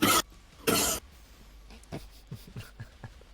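A single genuine human cough bursts out in two loud, close hacks, followed by quieter breathing and faint shuffling in a still room, with no talking.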